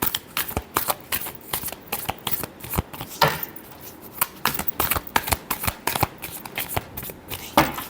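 Tarot cards shuffled up close in a final shuffle before a reading: dense, rhythmic riffling snaps and slaps, loud and continuous, with no talking.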